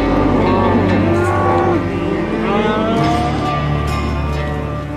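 Cattle on a Tasmanian cattle property moo loudly and close, several drawn-out calls overlapping one after another over a steady low rumble.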